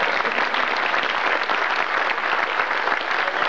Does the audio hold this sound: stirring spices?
no